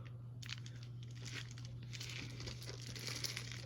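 Packaging being cut and torn open for an unboxing, with close, quiet crinkling and tearing over a steady low hum.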